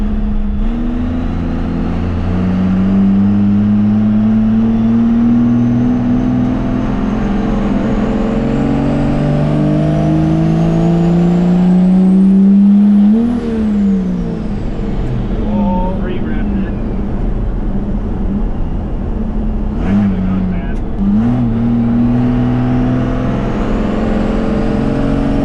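A first-generation truck fitted with a new torque converter accelerates hard, its engine revving up through the gears with a rising roar, a brief lift, then climbing again, loud and close.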